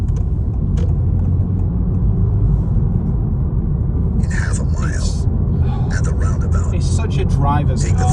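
A Honda Civic Type R FL5 engine blips during a downshift rev match while driving on the road, a low steady engine rumble and road noise dominating, with voices talking over it.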